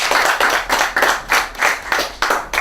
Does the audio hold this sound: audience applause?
yes